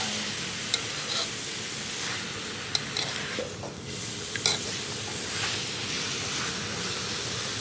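Fish caught that day cooks over an open fire outdoors in the forest, giving a steady close sizzle and hiss with a few faint clicks and crackles throughout, and no voices.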